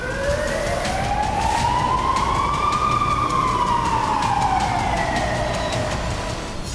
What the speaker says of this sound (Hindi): हालात ऐसे हैं कि इजराइल के कई शहरों में लगातार सायरन बज रहे हैं।